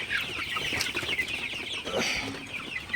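A large flock of Sonali super hybrid chickens, about 48 days old, clucking and chattering together in a dense, continuous murmur.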